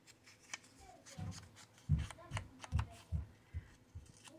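Scissors trimming cut paper for Christmas craft ephemera, a quiet series of about six short snipping cuts spaced roughly half a second apart, close and soft with no talking.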